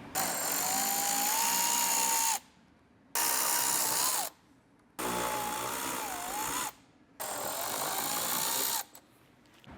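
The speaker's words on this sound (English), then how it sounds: "So we got our ratchet with our 10mm socket. We're going to go ahead and get these removed." Power ratchet with a 10mm socket spins out body clip bolts on a 4Runner in four loud whirring bursts of about two seconds each, split by short pauses.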